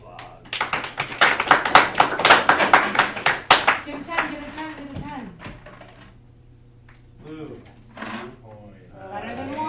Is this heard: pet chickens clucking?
no